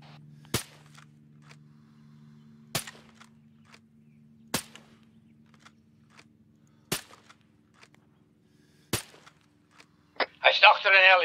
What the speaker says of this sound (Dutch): schoten rechts bij die bomen